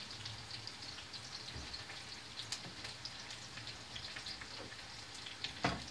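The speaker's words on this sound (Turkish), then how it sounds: "Bu kızardı canları." Food frying in a pan for an easy Turkish breakfast dish, a steady close crackling sizzle with scattered pops and a light clatter near the end, with no talk.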